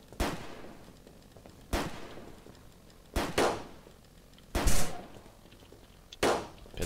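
Pistol shots in the zombie survival game Fort Zombie ring out one at a time at irregular intervals, five sharp, loud reports over a low background hum.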